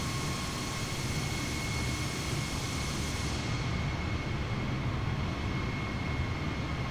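Steady broadband aircraft engine drone from a flight simulator game, running loud and unbroken with a continuous whine and no talk, the plane flying with flaps set to full.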